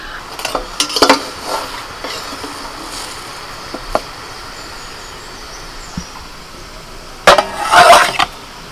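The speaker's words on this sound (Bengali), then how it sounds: "এবার আমি টিফিন বাটিটা নামিয়ে নেব" A metal tiffin box is lifted off a stove, giving scattered clinks and light metallic knocks near the start. A louder rattling clatter of metal containers comes near the end, over a soft kitchen hiss.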